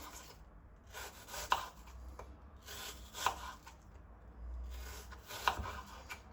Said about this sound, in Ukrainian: І так нарізаю всі яблучки.